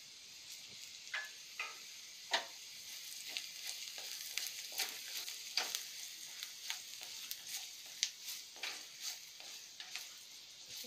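Spices such as red chilli, garam masala and dried fenugreek leaves sizzle softly in hot oil in a pan, with irregular clicks and scrapes as a spoon stirs them, quiet and close.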